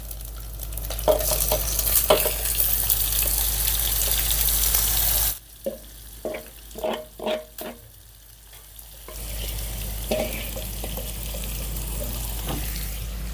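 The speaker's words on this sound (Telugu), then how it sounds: "ఇప్పుడు ఇందులో మనం ముందుగా మ్యారినేట్ చేసి పెట్టుకున్న ఈ వంకాయల్ని వేసేసుకుందాం." Marinated brinjals fry in ginger garlic paste with a loud, continuous sizzle and stirring. The sizzle drops away for a few seconds of quieter clinks and bumps as they go in, then resumes.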